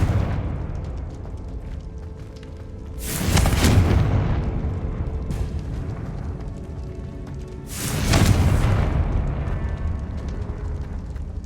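Two heavy explosive blasts from the Confringo fire spell in Hogwarts Legacy, about five seconds apart, each a deep rumbling burst that fades into a low background hum.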